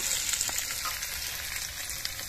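Chopped onion, capsicum, tomato and chilli fry in white oil with a steady, dense hiss and crackle, close and fairly quiet, with no voices.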